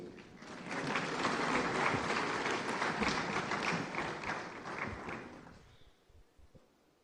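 Applause from a conference audience at the Afreximbank annual meetings welcoming an ambassador, a full sustained patter of many hands that swells early, holds, then tapers off into a few scattered claps and quiet.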